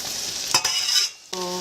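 Prawns land in a hot buttered pan and sizzle, a close frying hiss broken by a short clatter and a brief quieter gap before the sizzle resumes.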